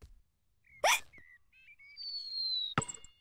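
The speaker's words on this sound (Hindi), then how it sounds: "जॉर्ज की हिचकियों से खेल बिगड़ रहा है।" A cartoon pig hiccups in a sharp, loud burst, followed by squeaky cartoon vocal sounds and a second hiccup near the end.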